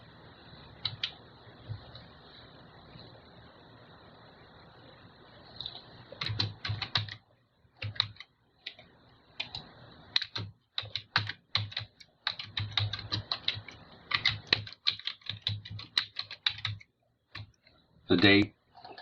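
Typing on a misbehaving computer keyboard while filling in a Winlink radio email template: irregular bursts of sharp key clicks with pauses, close and clear, with someone talking over parts of it.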